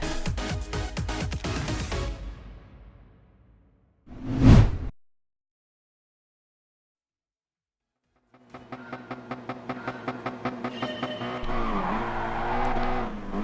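Race cars in Gran Turismo Sport launch from the start of a race: loud engine revving and a sharp whoosh, a brief silence, then a pack of cars accelerating together with rising, stuttering engine notes and tire noise.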